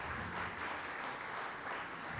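Faint, steady applause from a seminar audience at a panel on LGBT+ aging, a dense wash of many hands clapping heard at a distance for a couple of seconds with no speech.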